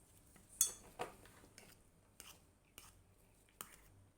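Utensils clink sharply against a bowl while couscous is stirred with olive oil, a handful of quiet, spaced taps and scrapes over a hushed background.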